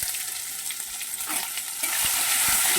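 Cumin seeds and grated ginger frying in a pan, a steady hissing sizzle that grows slightly louder toward the end, with a few soft stirring scrapes.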